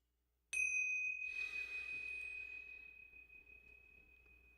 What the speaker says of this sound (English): Breathe in when you hear the chimes.